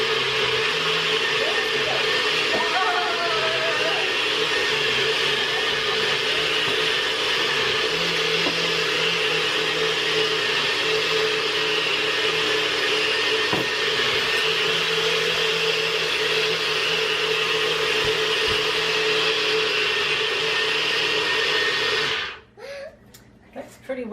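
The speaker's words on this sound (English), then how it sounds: "Then we'll blend this up. Just about 30 seconds or so." A kitchen blender blends cookie dough with dates, running loudly and steadily for about twenty seconds, motor whirring at an even pitch, then cuts off abruptly near the end.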